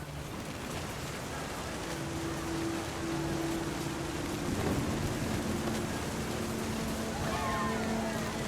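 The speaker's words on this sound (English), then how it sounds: "The thunder sounded much too close and full of angry power." Steady rain and rumbling storm noise fill a seaside scene in the video game What Remains of Edith Finch, a constant dense wash with a faint low tone and no clear single thunderclap.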